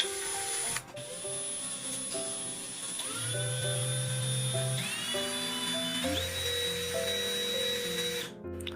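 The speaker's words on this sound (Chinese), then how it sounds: "大家所看到的是这台超能16伏电钻的一个慢档启动线型，我觉得还是比较偏快的。 再切换到快档。" A Chaoneng 16V cordless drill spins up as it is switched from low to high gear, giving a steady, loud whirring motor whine. Its pitch climbs in steps over several seconds, with no speech.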